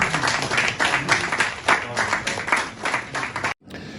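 Audience applause in a political talk-show studio during a discussion of cocoa prices, a dense burst of many hands clapping loudly for about three and a half seconds before cutting off abruptly.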